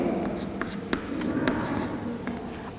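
Pen strokes scratch across paper while someone writes out a statics force problem by hand. The short scratchy strokes come in quick bursts under a low, steady room murmur.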